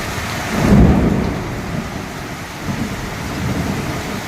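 A deep thunder rumble swells early over a constant roar of heavy rain, then fades as the downpour continues.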